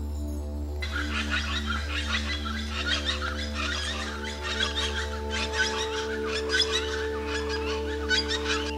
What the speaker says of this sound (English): Those are turkeys gobbling in Mayan.